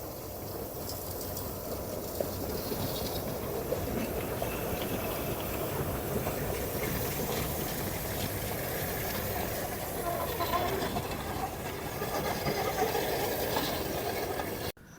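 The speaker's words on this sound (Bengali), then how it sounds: "আর ট্রেন এখন আসছে" An amusement park ride train approaches at Bootar Park with a steady, broad rumbling hum that runs throughout, mixed with faint crowd noise.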